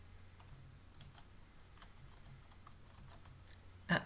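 Faint, light clicks of a computer keyboard as a command is typed into a command prompt, scattered soft taps over a low hum, ending with one louder sharp click, no talking.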